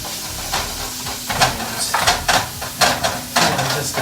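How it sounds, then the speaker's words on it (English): Ground beef browning in a skillet for a stuffed pepper dish, a continuous hiss of sizzling fat with repeated scraping and stirring clatters against the pan at close range. "The beef is browning up."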